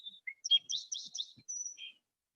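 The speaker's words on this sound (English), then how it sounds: "I think I'll breathe in some of these birds chirping into my brain." Birds chirping in short, bright, closely spaced bursts, clear and fairly near against otherwise quiet surroundings.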